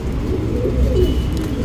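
A breeding pigeon coos in a low, continuous throaty rumble close by, the soft rolling murmur steady for the whole short stretch with no voices.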